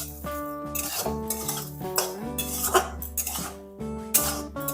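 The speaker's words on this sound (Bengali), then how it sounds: "ভালোভাবে চিনি এবং লবণটা মিশিয়ে নেবো" A spoon stirs salt and sugar into semolina (suji) in a pan, giving intermittent scraping and clinking strokes at close range over a steady tonal musical background.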